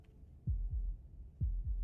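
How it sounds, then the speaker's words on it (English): Heartbeat in the video game Slay the Princess: soft, low thumps in lub-dub pairs, two beats close together repeating twice, muffled and alone with no talking. "That was the sound of A heartbeat, followed by another, and another."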